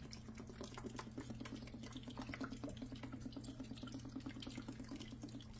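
Gravy mixture of flour shaken in a jar and poured into a pan, giving a soft close stream of rapid little drips and patters at a steady rhythm over a low kitchen hum, with no talking.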